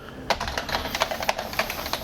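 Rapid keystrokes clatter on a computer keyboard connected to an HP TouchPad tablet in USB host mode, a steady run of crisp, close clicks with no voices.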